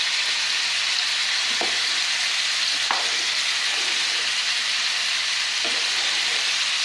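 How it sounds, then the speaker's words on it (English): Steady sizzling broad hiss of ziti pasta cooking in a pot on the stove, with a few soft scrapes and knocks from stirring, constant and fairly close, no voices. "just make sure you keep stirring the ziti"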